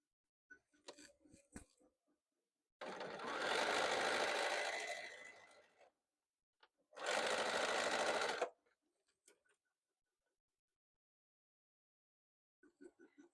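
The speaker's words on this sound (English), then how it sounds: "I'm going to sew these two pieces together." A sewing machine joins two quilt pieces in two separate steady bursts, the first about three seconds and the second about one and a half, with quiet handling sounds between.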